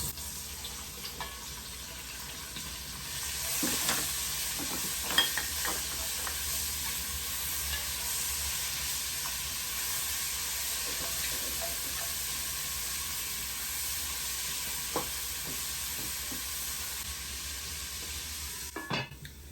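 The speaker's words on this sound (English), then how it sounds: "we're gonna go ahead and add just a small bit of oil. Okay, perfect. And we're gonna introduce our veggies to this pan" Vegetables sizzling in a small amount of oil in a pan as the base for a pot roast; a steady, quiet frying hiss with occasional stirring scrapes, no talk.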